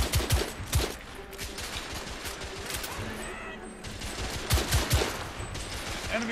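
Gunfire rattles in The Order: 1886, a video game firefight, with loud clustered shots at the start and again near the end and lighter scattered fire between them.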